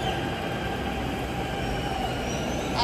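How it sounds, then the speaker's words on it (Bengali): A metro train at a station rumbles steadily and close, with a continuous high wheel squeal and no voices. "এবার এখানে অপেক্ষা করতে হবে মেট্রোর জন্য"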